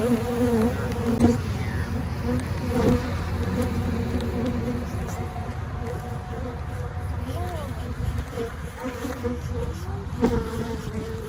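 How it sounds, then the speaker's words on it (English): A dense, steady drone of many honeybees buzzing close by at an open Flow Hive, continuous throughout, with a faint voice and light handling noises underneath. "Look at all those bees."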